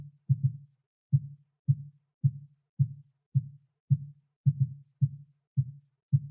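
A soloed MIDI kick drum shaped with EQ boosts and cuts, including a slight cut at 141 Hz, plays a steady pattern of about a dozen short, dull thuds. A few of the hits come in quick doubles, with silence between the strikes.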